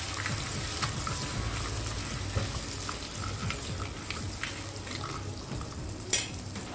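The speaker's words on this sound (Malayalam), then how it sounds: "ഇനി ഇതിലേക്ക് ഒരു തക്കാളി അരിഞ്ഞിട്ടെടുക്കാം. തക്കാളി നമുക്കൊന്ന് വാട്ടിയെടുക്കാം." Chopped tomato sautéing in a pan for a Kerala-style meal, a steady close sizzle with scraping stirs and occasional clatter, continuous and fairly loud with no talking.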